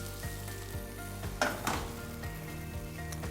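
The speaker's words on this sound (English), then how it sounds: "So you put this on the pan, and it starts to" Arepa dough frying in a pan, a steady close sizzle with light clinks and scrapes of utensils against the pan, and a brief louder burst of crackle midway.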